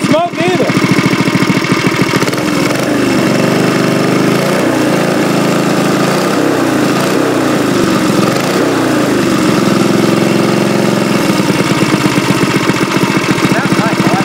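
A mini bike engine idles loudly and steadily close by, a continuous throaty rumble with slight rhythmic wavering, while people talk over it.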